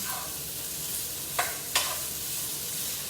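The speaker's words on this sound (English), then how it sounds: "We're just gonna cook it long enough till it gets a little brown." Turkey breast sizzles steadily as it browns in a hot pan, a constant frying hiss broken by two quick scraping stirs.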